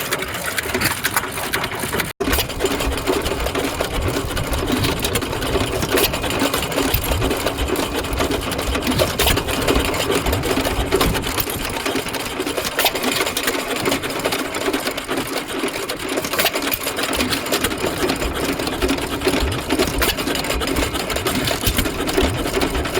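An antique stationary engine running at a steam museum, a fast, steady mechanical chatter that repeats evenly and loudly throughout, with no voices.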